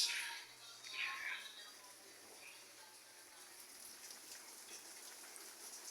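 Steady rain falling outside on a wet day, a soft continuous patter and hiss of drops on surfaces, fairly distant and even throughout, with no voices.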